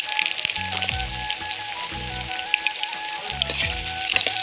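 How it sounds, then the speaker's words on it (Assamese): Potatoes frying in oil with turmeric, a steady bright sizzle and crackle running throughout, with occasional low knocks and scrapes from the pan. "আলুখিনি ফ্ৰাই কৰি লওঁ আলুখিনি দি দিলোঁ"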